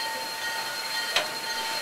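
Inside a passenger car of the Skagway steam train, a steady rumbling rail noise carries faint squealing tones and one brief sharp clank near the middle, with no voices.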